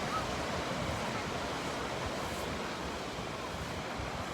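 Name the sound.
ocean waves on a sandy beach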